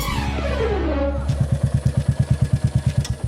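A motorcycle rides past: a rising engine whine and passing sweep give way to a steady, rhythmic low thumping idle or putter, close and loud, with a voice briefly heard.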